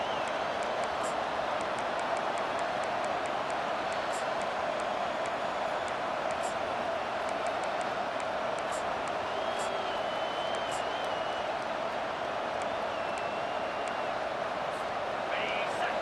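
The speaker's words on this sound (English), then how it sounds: "The roar of the crowd trying to fuel this defense to keep them pinned in their own end." A dense, steady roar of a big football stadium crowd in a college football video game, a continuous wash of noise lasting throughout with faint whistles and cheers rising above it.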